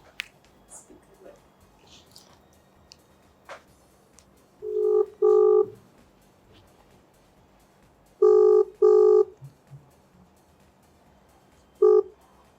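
A phone call rings out on the line, paired electronic tones repeating at regular intervals, clear and close against a quiet background.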